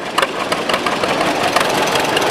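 A 1936 John Deere A tractor rolls past in a county fair parade, its engine a steady, close mid-pitched chugging drone that lasts the whole moment, with no talk over it.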